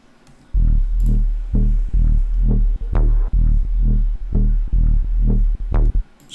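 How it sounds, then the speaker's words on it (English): A loud drum and bass wobble, distorted by a saturator, pulses in a steady rhythm, each wub thick and saturated, with a few sharp transient clicks between notes. "it was missing, some distortion, some volume in general, so I just put a saturator"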